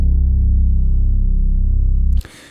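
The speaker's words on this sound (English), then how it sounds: "So on the Digitone's track number 1 here, I have my bass sound playing" Bass sound from an Elektron Digitone synthesizer: a loud, pulsing low synth tone with a steady rapid throb, held for about two seconds before cutting off abruptly.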